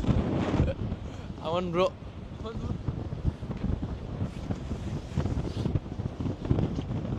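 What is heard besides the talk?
strong wind on a windmill trail in Jeju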